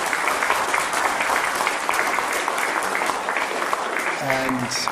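Audience applause for a group of sixth form students at an evening event with electoral candidates, a steady broadband clapping texture filling the room throughout, with a voice briefly audible near the end.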